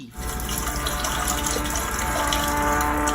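Urination in the horror video game Tales Beyond the Tomb, a steady, loud gushing stream of water that runs continuously without a break, heard alone with no talking.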